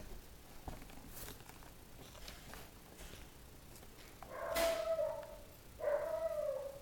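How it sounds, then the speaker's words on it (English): A dog in the Pixel Gun 3D shooter game gives two short howling, whining cries near the end, loud and close over a low game background. "That's the dog."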